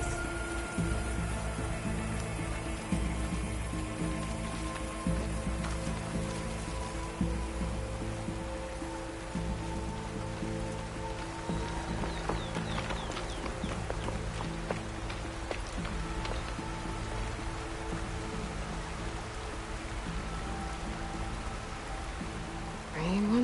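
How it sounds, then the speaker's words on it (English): Rain falling in the video game Horizon Forbidden West, a steady patter on surfaces with a low ambient drone throughout. "Rain once again."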